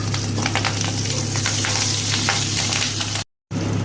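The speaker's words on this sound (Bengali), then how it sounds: "এই সময় এই তেলের মধ্যেই দিয়ে দেব ধুয়ে কেটে রাখা পেঁয়াজ কলিগুলো।" Washed, chopped onion stalks dropped into hot oil with cardamom, giving a loud, close, continuous frying sizzle with crackling bursts, broken by a short silent gap near the end.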